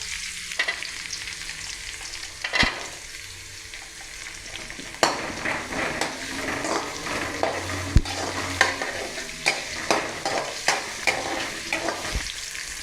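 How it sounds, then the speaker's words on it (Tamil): Shallots and garlic sautéing in a pan for dried anchovy thokku, with steady sizzling, frying hiss and repeated sharp scrapes and clinks of a spoon stirring, no talking. "இப்போ சின்ன வெங்காயம் இதையும் இதில் நல்லா சேர்த்து வதக்கிக்கலாம்"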